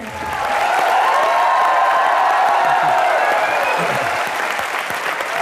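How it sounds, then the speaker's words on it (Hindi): A studio audience on the comedy show Comedy Nights With Kapil breaks into loud, sustained applause with some cheering. The dense clapping swells quickly and holds steady throughout. "जोरदार तालियां"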